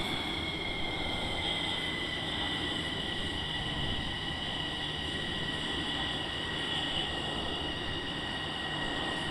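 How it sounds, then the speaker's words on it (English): F-15 jet engine at steady power, heard close up as a continuous loud roar with a sustained high whine over it, unbroken and unchanging throughout with no talk. "I'm getting more noise out of the engine here."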